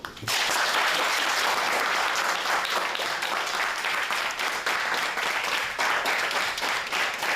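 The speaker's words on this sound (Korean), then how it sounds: "박수!" A classroom of students bursts into loud applause at the end of a coding class, a close, dense flurry of clapping that begins abruptly and continues steadily to the end.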